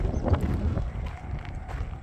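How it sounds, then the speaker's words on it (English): Wind gusts outdoors along a road in Magdalena, New Mexico, buffeting the microphone in a low, rumbling rush that stays fairly steady and moderately loud throughout. "Ooh, that wind's picking up."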